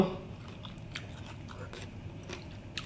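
Close, quiet chewing and crunching of fresh vegetables eaten with khanom chin in curry, with irregular crisp bites over a soft, steady background.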